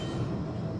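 A steady, low rumble of a tram running along the promenade track between Fleetwood and Starr Gate, heard from on board, with no talking.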